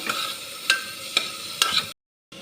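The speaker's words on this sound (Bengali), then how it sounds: "এবার একটু নাড়িয়ে নেব" Vegetables for a baby's meal are stirred in a pan, a gentle sizzle broken by a few sharp spoon scrapes against the metal, close up, then a brief silence.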